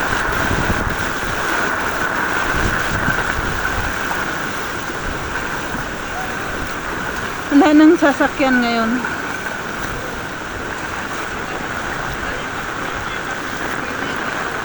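Heavy rain pours steadily during flooding, a dense, even hiss that runs throughout, with someone speaking briefly under it midway.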